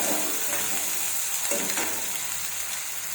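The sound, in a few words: chopped onions stirred and frying in a pan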